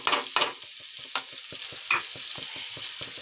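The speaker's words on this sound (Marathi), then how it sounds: "तर वांगे थोडे फ्राय होऊन राहिले आपले।" Eggplant fries in a pan while being stirred, a soft close sizzle broken by a steady series of scraping strokes and a few louder clanks.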